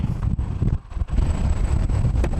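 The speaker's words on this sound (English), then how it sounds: "this wind is crazy, bro" Strong wind buffets the microphone on an open road, a loud, rough, continuous low roar that surges and briefly dips, with no voices.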